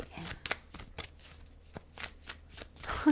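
Tarot cards being shuffled and laid out on a table, a series of soft close riffling and slapping flicks in an uneven rhythm, fairly quiet.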